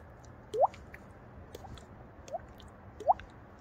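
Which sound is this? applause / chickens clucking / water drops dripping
water drops dripping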